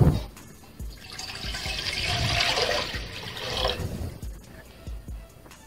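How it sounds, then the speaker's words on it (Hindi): Water pours into a cooking pot for boiling split green moong dal, a steady splashing rush of a few seconds that swells and then stops, with light clinks around it. "पानी डालेंगे"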